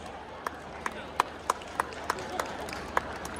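Sparse, separate claps ring out one at a time at a Nepali mela in the UK as a singer is welcomed, under steady background crowd murmur.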